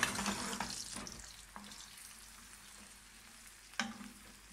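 Peeled tomatoes hit hot oil in a pan and give a loud, steady sizzle and spatter, with a few stirring clunks as the frying settles.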